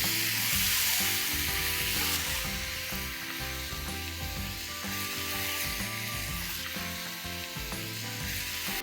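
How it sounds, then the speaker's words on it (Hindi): Marinated chicken for chicken Chettinad sizzling in a hot pan as it is mixed, a loud, dense continuous frying hiss with intermittent stirring scrapes and knocks, heard close with no talking. "अब डालेंगे मैरिनेट किया हुआ चिकन। चिकन को अच्छे से मिक्स कर लेंगे।"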